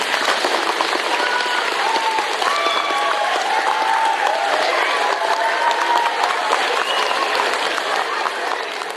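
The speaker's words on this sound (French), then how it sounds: "Une bonne main d'applaudissement pour Mme Justine." Loud, sustained applause from an audience at a school Christmas show, dense clapping mixed with crowd murmur and a few voices, holding steady before easing slightly at the end.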